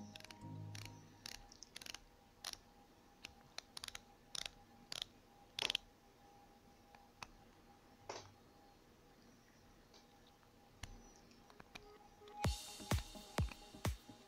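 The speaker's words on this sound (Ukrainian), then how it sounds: "Ось так вставляється головка на 1/4." Small 1/4-inch socket pushed onto a compact ratchet wrench, giving a series of sharp, close metallic clicks and taps spread over quiet background, with a quick burst of clicks near the end.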